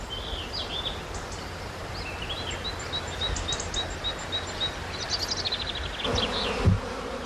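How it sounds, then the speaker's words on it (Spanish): Millions of bees swarming over trees in white and pink blossom in a Castilian village at winter's end, a dense steady buzzing with scattered bird chirps above it. "por toda esta floración pululan por millones las abejas"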